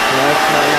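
A Windsor vacuum cleaner runs with a steady, loud, broadband whoosh and a low motor hum, continuous and close for the whole moment.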